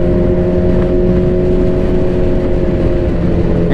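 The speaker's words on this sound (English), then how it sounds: "And look at this traffic." Road traffic with cars passing, a continuous close engine hum and tyre roar with faint revving, heard during a motorcycle ride to an event.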